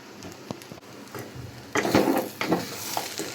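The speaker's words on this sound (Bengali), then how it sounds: "এই যে আমি একটু ঘি দিয়ে নেড়ে চেড়ে নিব" Noodles stirred in a pan with ghee: a soft bed of sizzling with scraping strokes of a spatula, louder and busier in the second half, with no talk.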